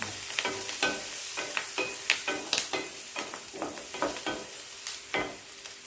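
Cabbage with turmeric frying in a pan while being stirred, a steady close sizzle under repeated scraping, clattering strokes of a spoon against the pan, with no talk.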